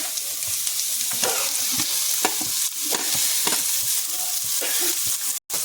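Carrot, capsicum, tomato and green chilli are stir-fried with onion in a pan, giving a continuous sizzle broken by repeated rhythmic stirring scrapes, close and moderately loud, with no speech.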